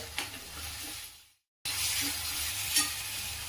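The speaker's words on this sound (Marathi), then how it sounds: "बारीक चिरलेला टोमॅटो आणि कांदा छान परतून घ्यायचा आहे।" Finely chopped tomato and onion sautéing with salt in a pan: a steady close sizzle with stirring scrapes, broken by a brief gap of silence before the frying resumes.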